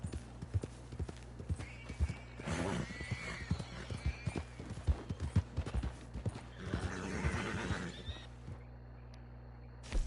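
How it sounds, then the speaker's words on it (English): In Red Dead Redemption 2, an agitated horse whinnies and neighs repeatedly over a steady clatter of hooves, with loud calls rising and fading across the scene and no one talking. "Something's bugging my horse."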